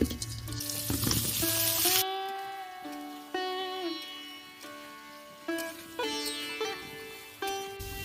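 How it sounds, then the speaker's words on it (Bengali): Pieces of pointed gourd (patol) fry in oil, giving a loud, broad sizzling hiss for the first couple of seconds that then drops back beneath steady tonal sounds. "এবার পটলগুলো আমি ভেজে নেব।"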